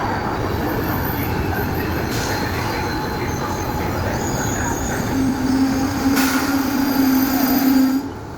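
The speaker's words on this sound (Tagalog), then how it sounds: "mga train reparts kusog-kusog pod mudagan og 110 km per hour" A train rolling through an Italian railway station, a steady rumble of wheels on track with a thin, sustained wheel squeal rising near the end.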